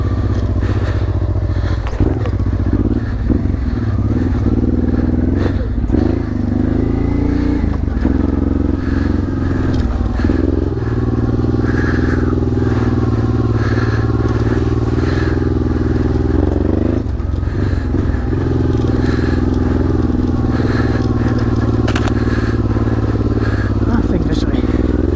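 A Honda Transalp XL600V motorcycle rides a slippery trail, its engine droning steadily and loudly throughout with rising and falling revs, plus clattering and thumping from the rough ground.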